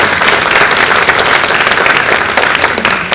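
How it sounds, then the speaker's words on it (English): An audience at a global youth leadership forum keynote breaks into steady, dense applause, loud and close, with hand claps filling the whole stretch and no voices above it. "let's give her a little round of applause"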